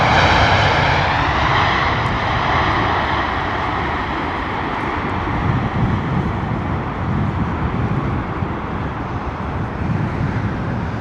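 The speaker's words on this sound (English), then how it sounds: "Here she comes. Oh, what a graceful landing." An airliner lands at London Heathrow Airport in wet, windy weather, a loud continuous roar of jet engines and rushing air holding steady and slowly fading, with no speech.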